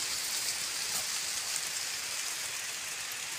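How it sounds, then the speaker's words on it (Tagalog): Heavy rain pours steadily in the rural countryside, a dense, even hiss of drops drumming on surfaces with no pauses and no voices. "Oh, lakas ng ulan."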